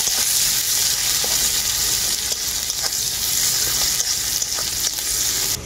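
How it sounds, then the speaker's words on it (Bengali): Onion and black cumin fry lightly in oil with a loud, continuous close sizzle and a soft scrape of stirring now and then. "পেঁয়াজটাকে আমি হালকা করে ভেজে নেব"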